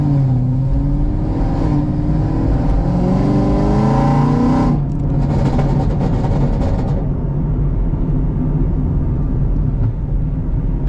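A loud supercharged Chevrolet Camaro ZL1 engine, about 750 hp with a ported supercharger, revs up, its pitch climbing steadily before a sharp gear shift, then roaring on at high volume on backroads.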